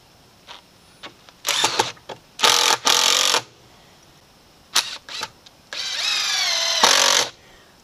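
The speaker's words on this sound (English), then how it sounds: "Okay, I'll put a couple of screws in here." Power drill driving 3-inch screws into wood while building a poultry and quail waterer, heard as several short loud whirring bursts and then one longer rising run, close by, with no talking.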